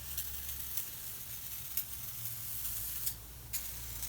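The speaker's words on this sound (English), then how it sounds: "So just give it a few quick sprays." Chemical stripper is sprayed onto an alloy Holden V8 engine cover in several quick bursts of hiss from a trigger bottle, evenly spaced over a low background hum, no voices.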